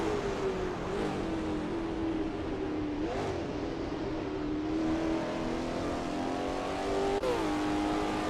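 A Lola T70 MkII Spyder race car on the Sebring circuit in a racing video game, its engine droning loudly and continuously with rising and falling pitch as it shifts gears and accelerates.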